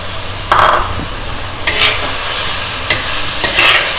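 Chicken drumsticks dropped into a pan of frying onion gravy and stirred, giving a steady close sizzle with a few scraping stirs of the spoon.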